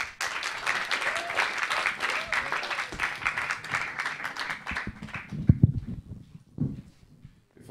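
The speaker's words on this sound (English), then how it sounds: "Please give him a big round of applause" A crowd gives a round of applause for a performer leaving the stage at a live show, many hands clapping densely for about five seconds before thinning into scattered claps and a few louder thumps and voices near the end.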